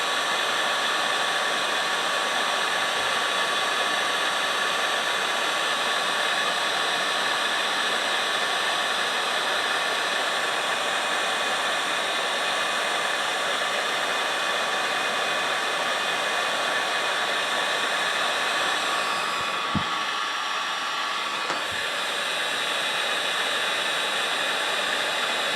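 A heat gun blows with a steady, loud, unbroken whir while it warms and softens a fuel hose on a 1982 Fiat 2000. A couple of faint knocks sound near the end.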